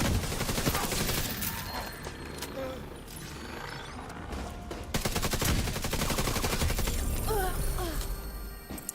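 Rapid automatic gunfire in The Division 2 pours into armored tanks, bursts crackling in dense sustained volleys across the whole stretch with mechanical clatter and game effects layered in.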